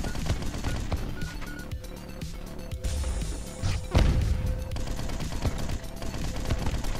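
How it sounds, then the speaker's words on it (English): Mini nuke weapon in the Neuro Voider video game, heard as dense, clattering game combat with repeated crashing impacts and a heavier blast partway through, layered over busy background music. "It's just gonna fly a long, long way and eventually explode"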